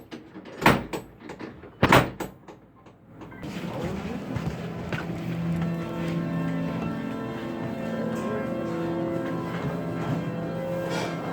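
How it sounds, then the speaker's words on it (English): Doors opening in a mystical mansion attraction, preceded by two sharp clunks, then a sustained mechanical rumble and hum as the doors move, with a faint voice in the background. "If anyone would like to turn hand to, these doors will magically open."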